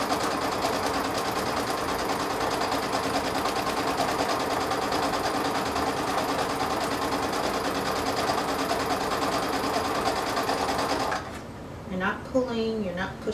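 A sewing machine stitches satin trim onto the outer layer of a tulle skirt in a long, fast, even whirr that stops abruptly near the end, after which a voice speaks.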